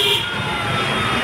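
Fire truck siren at a fire near a pier, a steady wailing tone sounding fairly close over traffic rumble and outdoor noise, with no talking.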